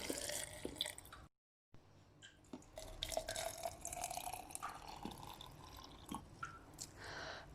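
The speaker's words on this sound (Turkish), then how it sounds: "Sonra üzerine 2 su bardağı su ekliyorum." Water poured from a glass over black mulberries sitting in a pot, a steady splashing trickle that breaks off for a moment and then carries on, close and fairly quiet.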